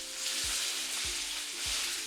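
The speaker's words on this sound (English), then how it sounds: "I've got a beautiful sizzle. It means my oil was hot enough." Meat dunked into a pot of hot oil fries with a dense, even crackling sizzle, close and continuous, with a few soft low bumps from the pot.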